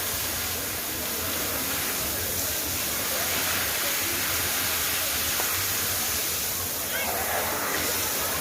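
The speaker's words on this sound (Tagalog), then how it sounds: "Mag-shower na tayo. Sarap na tubig." Steady broadband rush of shower water running at a beach setting at low tide, continuous and fairly loud throughout, with people talking over it.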